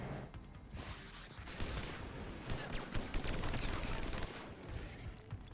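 The Typhoon gun in Mass Effect 3 fires in dense, rapid bursts, a loud chattering stream of shots with mechanical clatter throughout.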